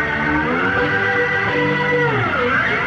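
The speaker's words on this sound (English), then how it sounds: "And get a mechanical tremolo sound." A sustained plucked electric zither chord shimmers with a pulsing, wavering mechanical tremolo from a motor-driven rotating speaker, loud and continuous.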